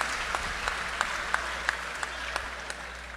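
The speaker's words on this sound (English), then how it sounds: "Let's give them a round of applause." Audience at an opposition anti-crime meeting in San Fernando applauding visiting union members, a steady crowd of clapping with a few louder individual claps standing out at an even beat, no talk.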